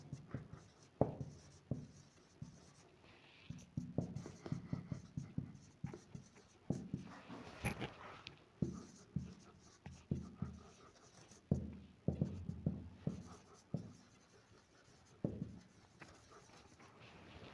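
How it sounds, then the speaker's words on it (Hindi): Chalk or marker writes a maths question on a classroom board in quick rhythmic bursts of scratching and tapping strokes, close and clear, with short pauses between groups and no speech. "फिर मैं एक क्वेश्चन और लिख देता हूँ"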